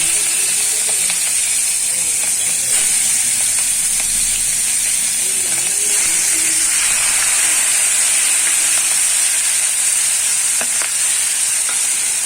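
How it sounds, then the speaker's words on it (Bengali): Prawns fry in a pan with a loud, steady, close sizzle that hisses without a break, with faint scraping of stirring now and then underneath. "চিংড়ি মাছ ভাজা হয়ে গেছে"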